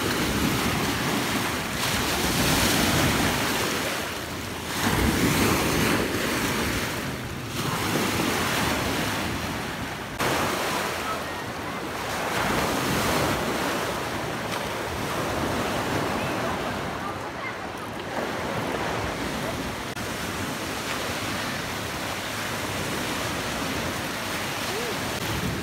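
Waves washing onto the beach of Lake Kivu at Gisenyi, Rwanda, after dark, a continuous surging wash with heavy wind buffeting the microphone throughout.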